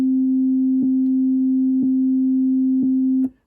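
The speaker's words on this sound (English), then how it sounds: "The first step is that sine wave." Steady sine wave tone from a Korg wavestate synthesizer, loud and pure, with soft clicks repeating about once a second as the loop steps, then cutting off abruptly at the end.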